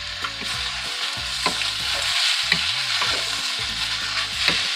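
Marinated beef stir-frying in a pan with soy sauce, a continuous hissing sizzle under steady stirring and scraping, with a few brief clanks of the utensil.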